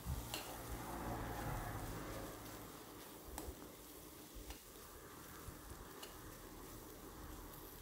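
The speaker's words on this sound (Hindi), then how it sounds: "हे आता तेलार 2 मिनटां परतून घेता मसाले।" Ground spices and garam masala sauté in hot oil for a mushroom masala, giving a steady close sizzle with occasional stirring scrapes and small clicks. No voices.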